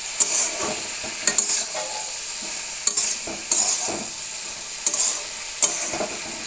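Salt, turmeric and green chilli paste stir-fry in a pan, a steady sizzle with repeated scraping strokes of a spoon every second or so, close and fairly loud, with no talking.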